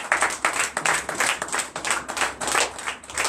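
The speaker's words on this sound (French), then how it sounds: "Donnez l'acclamation à Jésus." A church congregation in Comè, Benin, claps for Jesus during a Sunday service, a fairly close rhythmic clapping with distinct pulsing beats and a few accents standing out.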